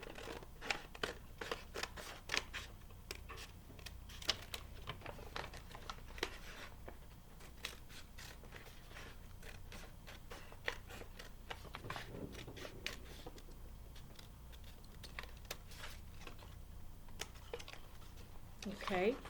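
Scissors snip through a drawn triangle template on a paper gift bag for a school-age craft, a steady run of close, crisp cutting clicks and rustles with brief pauses between strokes.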